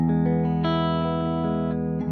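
A sustained, ringing electric guitar chord in a clean tone with a touch of reverb, with a couple of soft pick attacks along the way.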